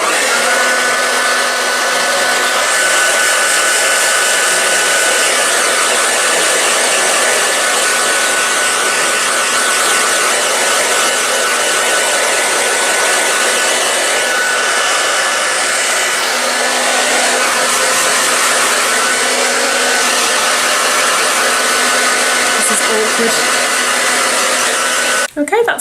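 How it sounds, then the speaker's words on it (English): A hair dryer runs continuously at close range while hair is blow-dried, a loud steady whooshing roar that holds level for the whole stretch before cutting off at the very end. "I have to super fast blow dry my hair."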